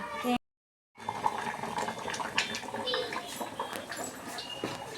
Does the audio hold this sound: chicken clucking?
no